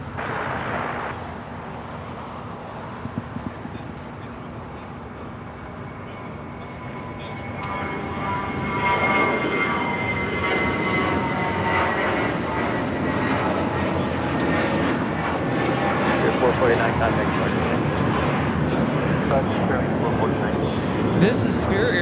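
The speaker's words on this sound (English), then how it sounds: "This is Spirit Airlines 449 taking off to Atlanta on the A320." Spirit Airlines Airbus A320 taking off at LAX, bound for Atlanta: a distant jet roar that builds steadily and holds loud and broad, with voices talking over the start.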